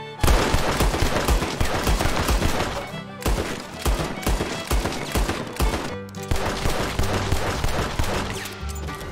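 Revolver gunfire in Red Dead Redemption 2, with upgraded revolvers fired at a tree stump outside town: loud, rapid volleys of shots in dense bursts, with two brief gaps between barrages.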